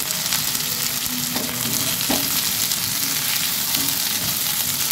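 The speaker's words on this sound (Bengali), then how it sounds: "এরপরে আমি আলু আর টমেটোটা দিয়ে দেবো।" Potato and tomato pieces go into onions frying in mustard oil, a dense, loud sizzle with stirring scrapes and a couple of sharp knocks of the spoon against the pan.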